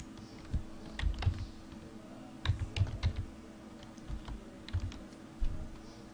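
Close-up typing on a computer keyboard comes in short irregular bursts of soft key clicks with brief pauses between them, with no voice over it.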